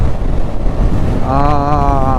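Steady wind noise buffets the microphone throughout on a coast between the sea and a river, with a low rumble and a tonal hum rising partway through.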